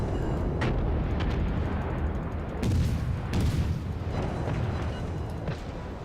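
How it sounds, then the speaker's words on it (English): Ship gun turrets blasting away in a naval boarding battle in the game Zelphis, a dense continuous roar of heavy booming shots with sharper cracks standing out, loud and close throughout. "we should be able to get our other gun turrets in on this now"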